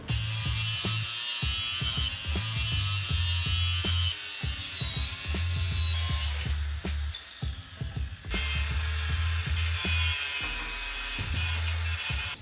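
A metal tab is cut off a Subaru WRX exhaust pipe with a power tool: a loud, continuous grinding whine broken by repeated start-stop bursts, close up, with no talking.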